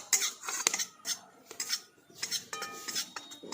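A utensil scrapes and clinks against a pan, stirring a frying egg mixture for egg shami kebab in quick, close, irregular strokes with no talk.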